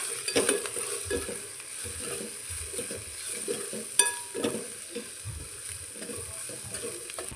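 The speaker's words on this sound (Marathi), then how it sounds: "हे परत आपल्याला सगळं व्यवस्थित मिक्स करून घ्यायचं" Chilli powder, salt and spices are stirred in a sizzling pan for vegetable pasta, with a soft continuous fry, a spoon scraping and tapping irregularly, and a sharp clink near the middle.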